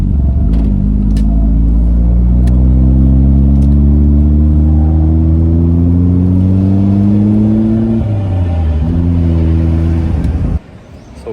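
A Honda Prelude engine revs loudly while downshifting on the road, a sustained rising drone that climbs steadily, dips sharply as the gear changes, then settles before cutting off.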